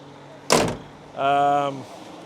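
Heavy mobile plant machinery being unlocked, with a sharp clunk of the door latch releasing, followed about half a second later by a sustained, droning harmonic tone as the cab door opens, close and fairly loud.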